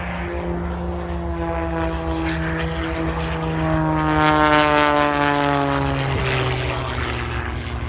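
A propeller-driven biplane performs at the 2017 Tyabb airshow, its engine a steady, loud droning hum with strong harmonics that swells slightly midway as it passes, heard alone without talk.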